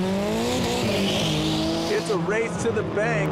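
A Honda S2000 drift car at a 2005 Formula D competition in Wall, New Jersey squeals its tires in a long, loud, wavering screech over a roaring engine, under an announcer's commentary.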